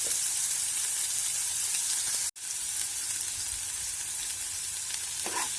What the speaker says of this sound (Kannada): ಫ್ರೈ ಮಾಡ್ಕೋಬೇಕು ಎಣ್ಣೆಯಲ್ಲಿ